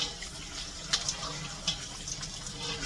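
Fresh green beans are washed under running water in a kitchen sink, a steady faint splash and trickle with a few brief louder splashes from handling.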